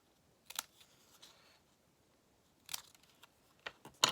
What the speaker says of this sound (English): So I'm just going to snip like this.